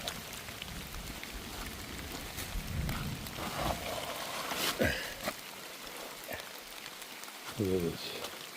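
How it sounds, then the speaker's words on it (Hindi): Heavy rain falls in a tiger forest after a rockslide, a continuous broadband patter with scattered louder splashes and knocks, while people talk intermittently. "फिर बारिश शुरू हो गई"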